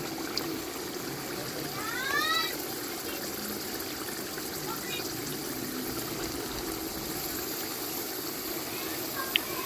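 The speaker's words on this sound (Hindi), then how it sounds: "वही चनों का पानी इसके अंदर जाएगा" Chickpea cooking water pours steadily into a pot, a soft continuous trickle and splash running throughout, with faint background voices.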